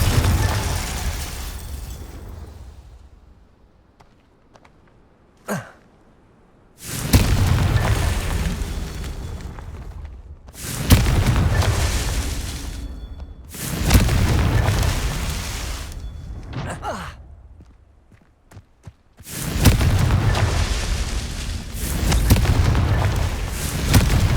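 Confringo blasting spell explosions in Hogwarts Legacy: a series of five heavy booming blasts, each erupting loudly and rolling off over a few seconds, separated by brief near-silent gaps and a small sharp pop between the first two.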